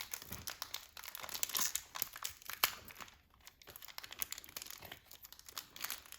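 Paper crinkling and tearing while Pokémon GO boxes are opened, with busy, continuous rustles and crunches close by and a brief pause partway through.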